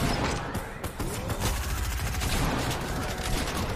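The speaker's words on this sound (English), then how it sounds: "Oh my goodness, shots are going on everywhere." Video game gunfire: dense, rapid volleys of shots crackle continuously at close range, with a faint hint of voice underneath.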